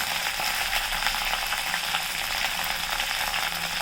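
Curry leaves and garlic fry in hot oil for an Andhra-style fenugreek-leaf dal, giving a steady, loud, dense crackling sizzle that carries on without a break and with no voices.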